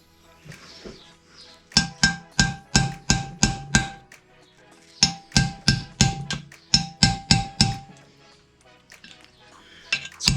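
A hammer striking a chisel against a rusty bolt, sharp metallic blows falling in three quick rhythmic runs of about six to eight hits each, with short pauses between the runs.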